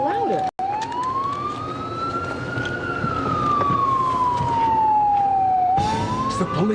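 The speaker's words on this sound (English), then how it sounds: "Oh, it sounds like a siren." A police siren wails in a long, slow rising and falling sweep, steady and prominent throughout, with a brief dropout near the start and a busier burst at the end.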